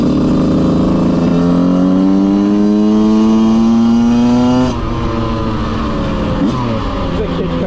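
A rebuilt Yamaha YZ125 two-stroke dirt bike revs loud and close, its ringing buzz climbing in pitch as it accelerates, then dropping off and burbling on.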